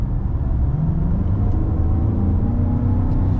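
A 2023 Mazda CX-9 Signature's turbocharged four-cylinder engine accelerating at about half throttle, a steady loud rising drone with rumble heard from inside, no talk.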